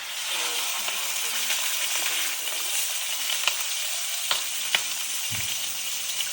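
A beef roast sears in a hot pan with a steady, dense sizzle and crackle. A few sharp clicks and a soft low thump come near the end, and no one speaks.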